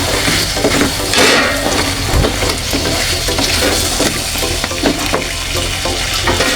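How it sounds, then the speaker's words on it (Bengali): New potatoes and katla fish stir-fried in a pan, a loud continuous sizzle with repeated scraping and stirring strokes of a spatula against metal throughout, no voices. "এই দেখেন আমি আলুটা ভালো করে কষা নেব।"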